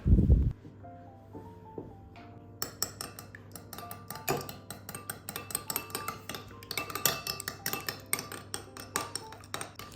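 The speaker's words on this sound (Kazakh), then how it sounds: "бір жұмыртқаны бөлек ыдысқа жарып алу керек және бір түсті болғанша шайқау керек" A utensil beats egg in a bowl for fried lagman, giving rapid, uneven clinks and taps against the side that carry on for several seconds.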